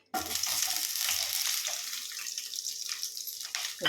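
Onion, garlic and ginger frying in a pan for a vegetable chicken gravy, giving a close, steady hissing sizzle that starts abruptly and holds throughout, easing slightly toward the end.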